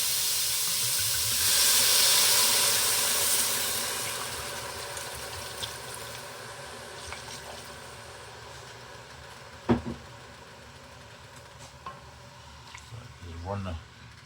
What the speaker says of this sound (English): I'm going to go ahead and deglaze the pot now